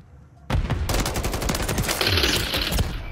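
SVA rifle fired in a multiplayer shooter match: loud, rapid bursts of automatic gunfire that burst in suddenly after a quiet moment and rattle on densely with barely a break.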